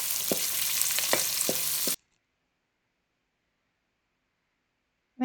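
Onions, ginger and garlic frying for a Kerala chicken curry, a loud close sizzle with stirring knocks in the pan for about two seconds before cutting to silence.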